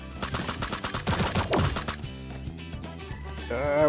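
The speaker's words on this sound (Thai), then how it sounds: "เหมือนมีเสียงปืน" Gunfire in the video game Sausage Man, rapid loud bursts of shots in quick succession, followed by scattered single shots and a rising electronic tone.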